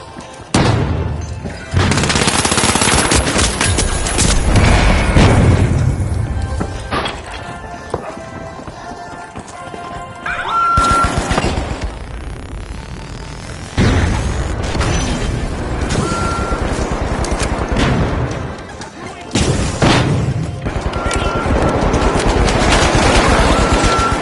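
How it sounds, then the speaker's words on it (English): Loud, dense bursts of gunfire and explosive blasts from a shooter video game arena match, including a flashbang, arriving in long heavy volleys separated by brief lulls. "Flashbang."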